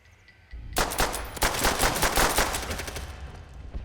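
Pistol fire in Call of Duty: World War 2, a burst of rapid, loud shots starting after a brief quiet moment and continuing densely for about three seconds before tapering off.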